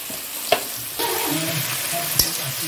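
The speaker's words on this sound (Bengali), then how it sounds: "এদিকে মাংস করবো বলে আলুটা ভেজে নিচ্ছি।" Potato pieces fry in hot oil for a chicken curry, a steady close sizzle broken by a few sharp clinks and scrapes of a stirring utensil against the pan, with no talk.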